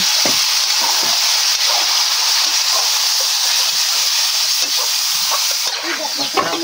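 Fish goes into a hot pan for a coconut-milk dish, giving a loud, close, continuous high sizzle and hiss with faint stirring clicks and no talking.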